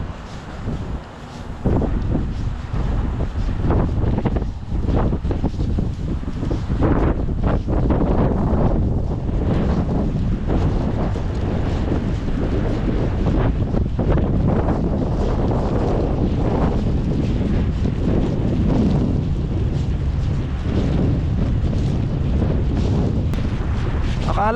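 A strong wind roars steadily and loudly outdoors as snow starts falling in Canada, buffeting the microphone with continuous low rumbling gusts.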